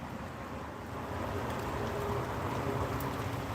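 Steady rain falls outdoors as a continuous broadband hiss of drops that swells slightly after the first second and holds through to the end, with no talk.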